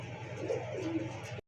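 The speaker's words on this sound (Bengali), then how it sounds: "এত কম দামে ওই কবুতর ভাই থাকবে না কোথাও" Pigeons for sale at a Bangladeshi pigeon market, including Giribaz and Lahore breeds, give a brief, soft, low cooing close by against steady background murmur before cutting off.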